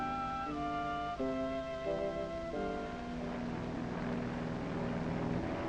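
An airplane spraying against fire ants over towns and rural areas drones steadily with a wavering engine tone that slides and shifts, then settles into a rougher, sustained roar.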